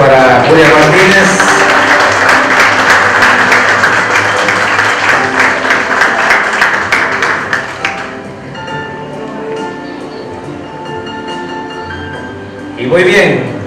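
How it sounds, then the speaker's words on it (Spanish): Loud audience applause for Julia Martínez, dense clapping for about eight seconds before fading into softer room murmur and scattered claps, with a brief burst of clapping again near the end. "fuerte el aplauso para Julia Martínez"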